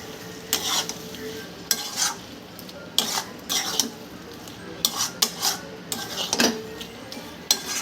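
Pointed gourd with poppy seeds stirred and fried in a pan: a low continuous sizzle broken by irregular scraping, clattering spatula strokes against the pan, close by with no talk.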